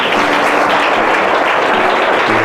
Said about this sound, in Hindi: अब जोरदार ताली तो बजाइए।